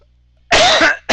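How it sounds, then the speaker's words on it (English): A single short, forceful cough close to the mic, followed by the start of a second one. "Sorry, I didn't mean to cough in your ear."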